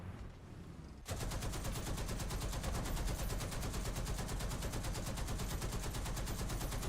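Gunfire in a shooter video game, starting about a second in as rapid sustained automatic fire with a steady, loud, dense crackle that continues without pause, and no talk.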